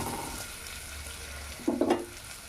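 Vegetable pieces, including carrot, fry in a pan for lemon rice with a steady low sizzle, broken briefly by a quick clatter of stirring near the end.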